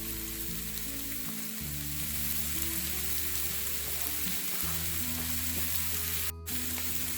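An egg sizzles and fries in a hot pan of Hakka noodle ingredients with cilantro, a steady crackling hiss close by with a low hum underneath and a brief clatter near the end.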